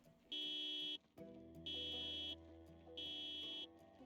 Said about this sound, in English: Oh no, a car alarm.